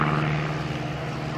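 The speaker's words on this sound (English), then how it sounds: "Torques it around like Charlie Hillard did to win the World Aerobatic Competition in an airplane not too different from this" Aerobatic propeller airplane performing at the Oshkosh airshow, a steady droning engine and prop hum with a strong low tone, heard at moderate distance with no talk.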